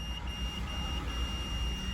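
A 3.5 kVA solar inverter's buzzer sounds a high, steady beep during a long button press, broken by a few short gaps, over a low background hum.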